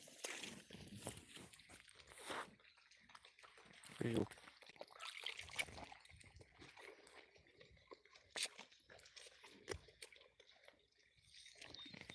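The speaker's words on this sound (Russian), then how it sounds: "Вона і їсть і воду п'є" A cow munches and crunches its food while drinking, water splashing and trickling, with people talking nearby.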